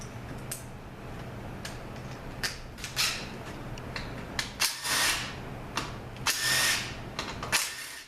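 10mm bolts on a Honda B90A are worked loose with a socket and extension, producing faint ratcheting clicks and short metallic bursts over a low steady hum, no voices.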